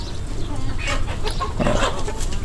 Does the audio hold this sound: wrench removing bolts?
no